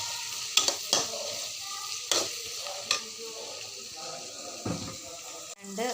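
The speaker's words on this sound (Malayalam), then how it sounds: "ജസ്റ്റ് ഒന്ന് ഇളക്കി കൊടുക്കുക." Spoon stirring spices into onion, ginger and garlic frying in a pan for a mushroom curry, with a steady sizzle under a few scraping clinks and knocks, close and moderately loud, no talking.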